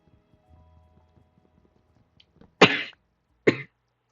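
A person in the middle of a Minecraft hardcore session coughs twice in quick succession, two loud, harsh bursts close to the microphone after faint background game sounds.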